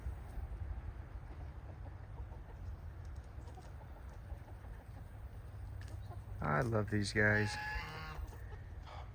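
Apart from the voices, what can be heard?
chickens clucking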